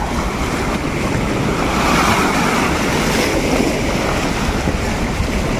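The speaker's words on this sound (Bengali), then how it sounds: "এত বড় জাহাজ ঢেউ আসছে" Waves from a large passing ship's wake wash in at Diamond Harbour, a loud, continuous rush of surf mixed with gusty wind noise.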